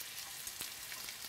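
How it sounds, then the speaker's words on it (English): Pieces of fish frying in hot oil for brown stew fish, a soft steady sizzle with faint crackles and pops, close and quiet, no talk. "we are going to fry these pieces until they're golden brown on both"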